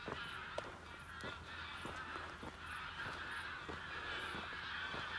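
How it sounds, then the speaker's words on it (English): Geese honk repeatedly over a steady background hum while someone walks through Stockholm in Sweden, giving a chorus of nasal, moderately distant calls. "The geese are coming."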